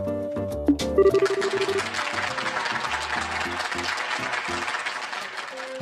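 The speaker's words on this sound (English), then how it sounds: "We got a round of applause!" Brief in-game applause from a crowd in Trails in the Sky SC, moderate and steady, layered under game music and sound effects with a melodic tone at the start.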